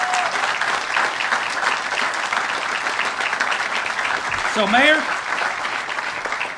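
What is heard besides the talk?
applause for firefighters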